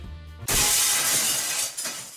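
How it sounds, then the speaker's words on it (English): A chandelier from the video game Limbus Company crashes to the floor with a loud, sustained glass shatter that bursts in after a brief low hum and rings on for over a second before fading. "The chandelier crashed to the floor in full force, making a tremendous noise."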